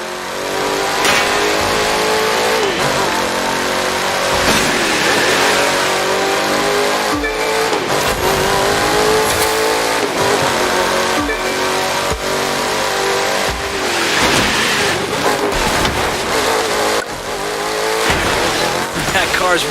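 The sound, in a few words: car accelerating in video game The Crew 2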